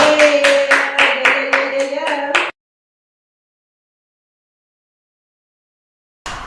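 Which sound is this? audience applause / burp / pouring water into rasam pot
audience applause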